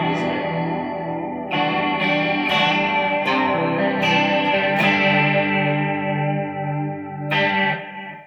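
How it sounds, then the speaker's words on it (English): Electric guitar through a chorus pedal gives a shimmery 80s sound, several strummed chords ringing and decaying with a lush wavering shimmer, each attack clear and close, no voices. "So that's what a chorus pedal does."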